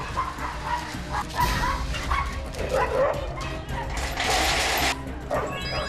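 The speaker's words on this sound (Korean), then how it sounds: "미처 막을 새도 없이 윗집 개들에게로 달려가 흥분하며 싸움이 붙는 건데요" A Jindo dog barks and yelps excitedly at the neighbouring dogs upstairs during a fight, loud and close, with scuffling, a crash-like burst and some voices mixed into the commotion.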